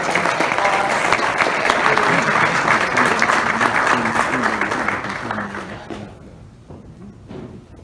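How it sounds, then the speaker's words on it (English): A conference audience at a plastics industry executive forum on 3D printing claps loudly and steadily, with a voice speaking over it, before the applause fades out near the end. "give everyone a applause"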